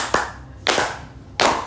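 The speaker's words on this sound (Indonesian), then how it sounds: "tepuk tangan" Three separate hand claps spaced about half a second apart, close and fairly loud, with a dull ambient hum between them during a casual Indonesian podcast chat.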